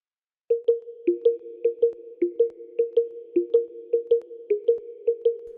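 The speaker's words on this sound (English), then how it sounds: "this sound was picked from the default plugin inside of FL Studio called Flex, and I'm using a preset called Droplet" A synthesized Droplet preset from the FL Studio Flex plugin plays a steady pattern of short, round, watery plucked notes, repeating a rhythmic two-pitch figure with faint high sparkles on top, clean and alone.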